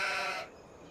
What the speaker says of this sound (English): we can check on our sheep really quick and make sure they've got enough water